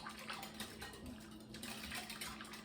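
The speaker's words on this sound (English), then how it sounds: "now we're going to put in our 1 cup of milk" Milk poured in a steady, continuous liquid stream into a bowl of oatmeal muffin batter, close and moderately loud with no talking over it.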